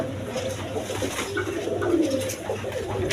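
A crowd of pigeons kept together in one enclosure keeps up continuous close cooing, several birds' deep rolling calls overlapping without pause.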